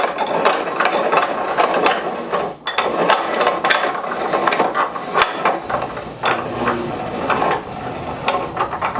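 Bench vise handle being cranked in to clamp laminated wood blocks, a continuous run of close, loud clicking ratchet-like mechanical ticks and creaks with a brief pause partway through.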